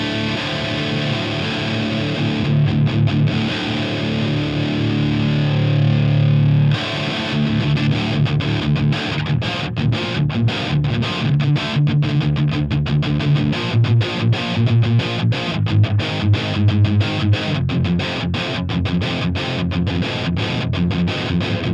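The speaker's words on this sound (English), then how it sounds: "Let me go over to the overdrive channel." Electric guitar played through the overdrive channel of a London City Bulldog amp: loud, distorted chords and riffs ring out alone, with sustained passages giving way to choppy, rhythmic muted strumming.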